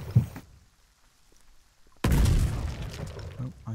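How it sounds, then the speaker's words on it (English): An explosion in the war video game Foxhole bursts suddenly after a near-silent stretch, a loud, broad roaring blast that rumbles on for over a second before fading. "Oh, I hear explosions."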